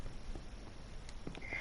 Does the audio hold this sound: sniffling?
yes